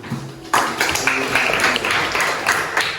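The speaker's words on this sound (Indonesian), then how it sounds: "Beri tepuk tangan." Applause and clapping break out suddenly in a classroom after a brief quiet moment and continue steadily, close and lively, with a few voices faintly mixed in.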